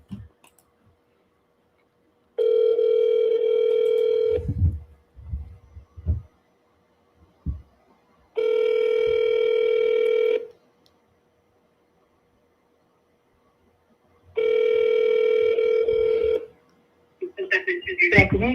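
Three long electronic ringback tones from a telephone line after a menu option is pressed on a call to an organisation's automated system, each lasting about two seconds with gaps between, with brief clicks and line noise in the pauses.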